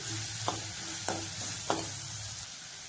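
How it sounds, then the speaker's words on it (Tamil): A spoonful of ginger garlic paste sautéing in a pan for chicken curry dosa, with a steady sizzle broken by three or four sharp scraping stirs of a spoon against the pan, close and alone. "ஒரு ஸ்பூன் இஞ்சி பூண்டு பேஸ்ட் வந்து சேர்த்துக்கிறேன் இது சேர்த்து நல்லா வதக்கிக்கணும்"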